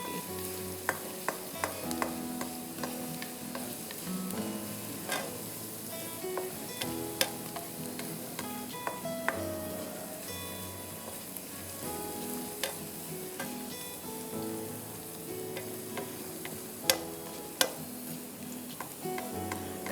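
Chicken frying in a pan with ginger and garlic, a steady close sizzle with scattered crackles and pops and the occasional clink of a utensil stirring, continuing throughout with no talking.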